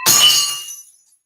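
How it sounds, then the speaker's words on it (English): A coupe glass breaks with a loud, close, sharp shattering crash, then bright tinkling fragments ring out and fade within about a second. "Broke one of my coupe glasses."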